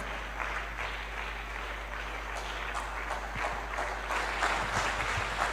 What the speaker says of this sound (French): give a hand clap to the Lord Jesus